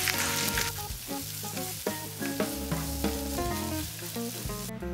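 Onions sizzle steadily in olive oil and butter in a frying pan, a continuous hiss that sits beneath prominent background music throughout.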